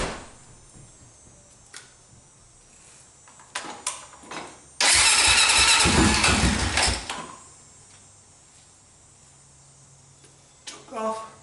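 A Honda 400EX quad engine with the choke on cranks and fires, bursting into a loud mid-pitched roar for a couple of seconds before dying, with quiet clicks and talk around it.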